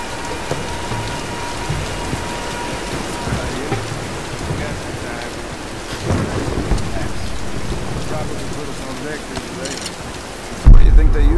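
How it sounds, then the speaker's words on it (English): Heavy rain and a thunderstorm in the action game Tomb Raider Definitive Edition: a constant loud downpour with rumbling thunder building through the middle and a sharp, close crack at the end. "let's wait out the storm."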